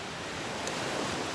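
Waves washing onto a quiet, empty beach, a faint, even hiss of surf with light wind and no voices.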